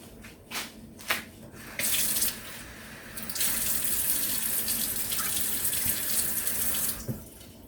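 Water runs from a kitchen tap as a quarter cup is measured out for a sauce, a steady close splashing stream that starts and stops in bursts before a longer continuous flow.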